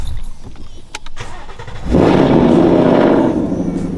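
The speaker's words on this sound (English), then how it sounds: "we're gonna start his car" A 900 wheel-horsepower car engine cranks briefly, then catches and roars to life loudly up close, settling into a strong steady rumble.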